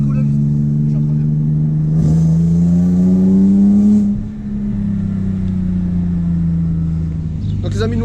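A BMW E30 engine revs up under acceleration, a rising and falling mid-pitched drone that swells, dips briefly and settles into a steady rumble, with people talking alongside.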